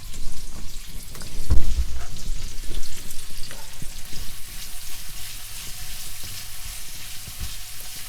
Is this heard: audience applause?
no